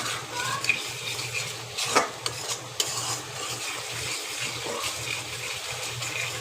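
Spice paste for a hilsa fish curry being stir-fried in a pan, a low steady sizzle broken by several sharp spoon scrapes and clinks against the metal.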